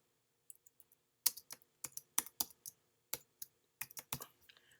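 Light clicking taps on a computer keyboard in irregular short bursts, close and fairly quiet, heard alone with no talk.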